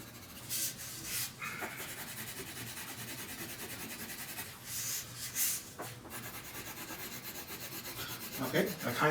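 Pencil rubs steadily across paper while shading highlight areas of a drawing, a close, soft scratching texture with a few sharper strokes, no voices.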